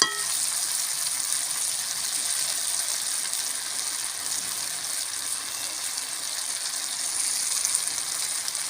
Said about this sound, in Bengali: টমেটো, পেঁয়াজ, আদা রসুন আমার ভাজা ভাজা হয়ে গেছে।